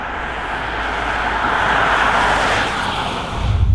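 A 2018 Kia Sportage GT-Line S rolls along a walkers' trail leading to Glenveigh Castle, giving a broad steady wash of road and engine noise that swells slightly midway, with a low thump near the end.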